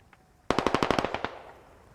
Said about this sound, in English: John A. Bowles opening fire